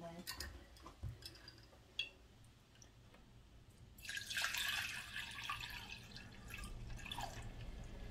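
Water kefir grains are sieved, with scattered drips and small taps at first, then a louder trickling pour of liquid through the sieve, close and soft in a quiet room.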